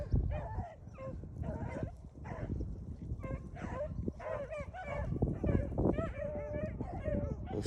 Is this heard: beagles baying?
yes